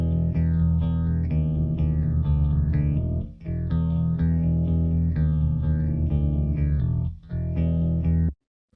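A synth-style bass element played dry without any bass enhancement, a sustained, full, continuous bass line with a couple of short gaps, loud and alone with no voices, ending abruptly.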